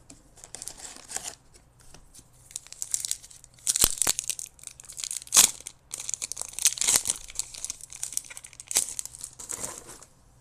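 Crinkling and tearing of foil wrappers as Lorcana Winterspell booster packs are opened, close up, with irregular bursts of sharp rustling and a few louder rips over a quiet room.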